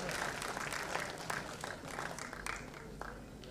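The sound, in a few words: audience applause at awards ceremony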